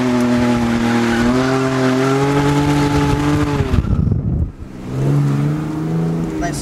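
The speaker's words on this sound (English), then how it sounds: "Nice little skid" A Nissan S14 with a clutch problem revs hard, then its tires squeal loudly in a skid. A harsh scrub follows, and the engine drone comes back afterward.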